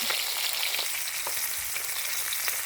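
Small mackerel frying in a modest amount of oil, a dense, loud, continuous sizzle close by with faint bubbling pops and no talk.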